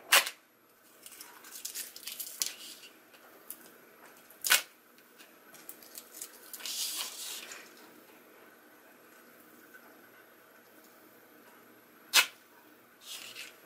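Cut adhesive vinyl from a Silhouette CAMEO being peeled and snapped off its backing by hand, giving a few sharp, close crackling rips separated by quieter rustling, with no talking.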